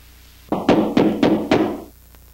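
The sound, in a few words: knocking on the front door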